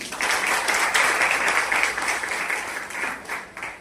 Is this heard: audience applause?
yes